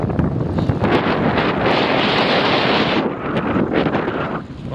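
Wind buffets a moving cyclist on a gravel track across an open plain in December, a loud, continuous roar of rushing air over the microphone that holds steady throughout and eases slightly near the end, with no voices.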